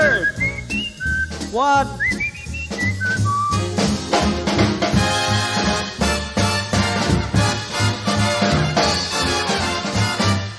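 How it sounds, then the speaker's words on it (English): A man whistles bright, warbling birdlike phrases with quick upward slides over a swinging big-band accompaniment, the whistle prominent near the start before the full band carries on; a voice briefly speaks. "Oh, he whistles pretty. Yeah, like a bird."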